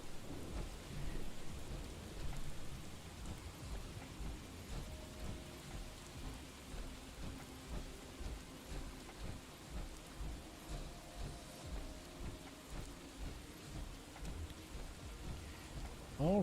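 Rain and rolling thunder in the video game Fallout 4, a steady, fairly quiet downpour with low rumbles throughout and no talking.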